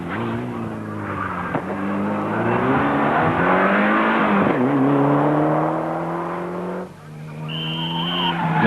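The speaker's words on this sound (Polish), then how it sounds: "N-grupowy eskort Wiesława Steca i Artura Skorupy." A Ford Escort Group N rally car drives at a 1995 Polish rally championship event, its engine roaring loudly and steadily with rising revs, then easing briefly near the end and picking up again.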